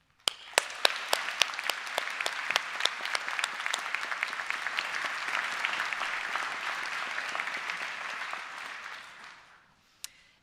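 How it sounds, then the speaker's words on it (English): An audience at a university graduation ceremony bursts into sustained applause, dense clapping that holds steady for several seconds, then fades out, ending with one last isolated clap. "big applause to these guys behind me"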